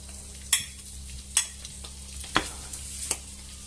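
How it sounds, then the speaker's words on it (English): Sausages frying in hot oil in a pan on a hob, a steady low sizzle broken by a few sharp spits and clatters, close and alone. "once the oil is hot, or hottish, I'm going to turn this down to number 7, and I'm going to chuck in the sausages there"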